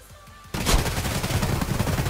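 Gunfire in Escape from Tarkov: after a quiet moment, a loud burst of rapid shots erupts and continues as a dense, rattling stream until the end.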